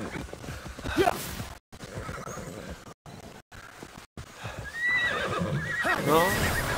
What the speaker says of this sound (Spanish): Mira cuántos caballos, tío.